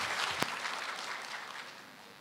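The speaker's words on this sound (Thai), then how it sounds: "ขอเสียงปรบมือต้อนรับรองศาสตราจารย์ดร." Audience at a university faculty training session claps to welcome an associate professor, steady moderate applause with one sharp knock near the start, tapering slightly at the end.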